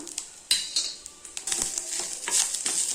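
Turmeric leaves and chopped turmeric pieces being sautéed in a pan for rasam, with a spoon clinking and scraping against the metal in quick, uneven strokes over a faint sizzle, close by.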